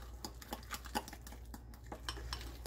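A utensil mixes horseradish, pickle and mayonnaise into an egg mixture in a bowl. Faint, quick, regular ticks and scrapes repeat several times a second, quiet and close.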